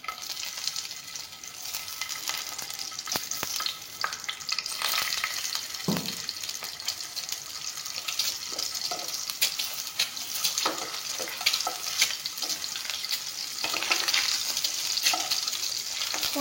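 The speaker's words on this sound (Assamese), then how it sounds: "ৰিফাইনখিনি দি কণীখিনি প্ৰথমতে ভাজি ল'ম" Eggs fry in hot refined oil in a wok, giving a steady sizzle with occasional stirring scrapes and faint watery sounds, with no one talking.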